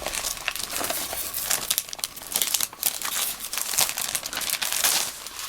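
Washi paper from Kamakura is handled and crinkled for Japanese New Year card making, giving close, continuous crisp rustling and crackling with no talk.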